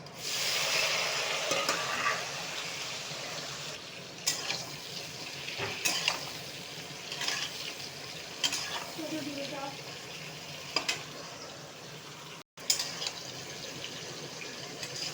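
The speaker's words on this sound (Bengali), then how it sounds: "এটা আগে বেগুনটাকে ভেজে নিই" Eggplant pieces rubbed with turmeric and salt fry in a pan, giving a steady, moderate sizzle broken by intermittent stirring clatters and scrapes; faint voices come and go underneath.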